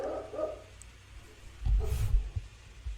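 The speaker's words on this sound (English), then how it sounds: "And the dog's in the background barking" A dog barks in the background with a few faint, low thumps of sound in a short burst midway, mostly alone with no talk over it.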